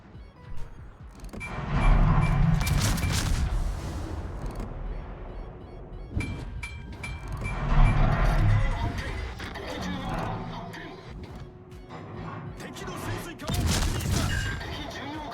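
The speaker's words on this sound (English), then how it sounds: "That was a very, very good salvo on the Kremlin, to be honest." Battleship main-gun salvos in World of Warships, deep booming blasts rolling out in several heavy waves with rumbling tails, while someone talks over the action.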